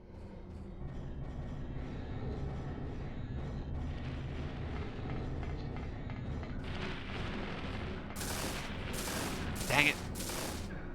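Rifle shots ring out in Silent Hill, a few sharp, loud reports clustered near the end over a low, steady ambient rumble.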